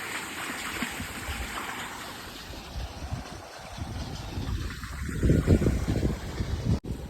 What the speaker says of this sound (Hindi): जो पानी का आवाज़ आपको सुनाई दे रहा है।